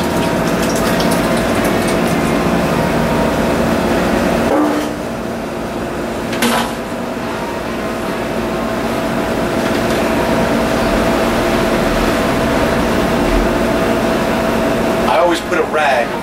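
A blender running on low, with a rag over the top, pureeing braising liquid into barbecue sauce: a steady droning whir that runs throughout, dipping briefly partway through, with a few knocks.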